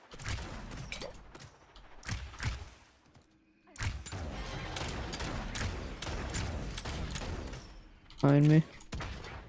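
Rapid gunfire bursts from the video game Realm Royale, with repeated sharp shots in clusters across the clip and a steady battle din beneath, plus a brief tonal game effect near the end.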